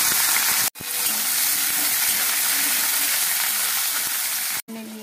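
Chopped onions with cumin seeds fry in hot oil, a loud steady broadband sizzle that runs nearly unbroken for about four seconds, with two brief silent gaps.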